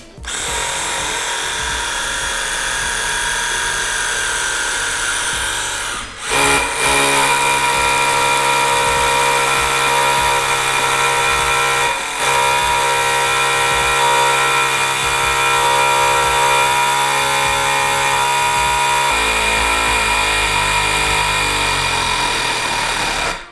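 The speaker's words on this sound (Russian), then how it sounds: "Так, сверление с ударом." A cordless hammer drill runs in impact mode with a loud, steady, close whine and rapid hammering rattle, briefly pausing twice before resuming and straining toward the end.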